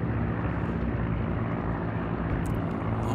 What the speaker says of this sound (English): Got my fighters flying right over you right now.